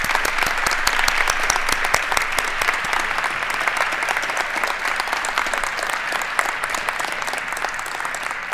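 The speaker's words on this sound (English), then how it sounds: "Please stand and let us give you a round of applause." Sustained audience applause at a naturalization ceremony, a large crowd clapping loudly and continuously with dense overlapping claps, steady from start to finish and free of speech.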